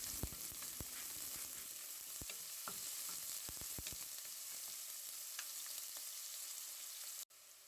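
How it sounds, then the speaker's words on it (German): Garlic and onions frying in a pot, a steady close sizzle with scattered crackles and light stirring scrapes, continuing alone until it cuts off abruptly near the end. "Ich brate zuerst den Knoblauch und die Zwiebeln ein wenig an."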